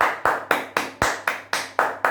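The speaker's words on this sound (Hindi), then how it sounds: "तो जोरदार तालियां होनी चाहिए" Audience at a business presentation clapping in unison, a regular rhythmic beat of loud claps about four per second, close and steady, with no talk over it.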